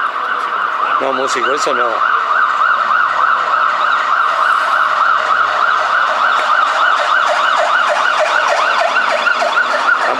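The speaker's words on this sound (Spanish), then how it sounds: "Han pasado más sirenas acá" Loud emergency sirens wailing steadily and close, with a brief rising and falling whoop early on and a short spoken remark over it.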